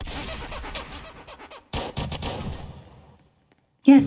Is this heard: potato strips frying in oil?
no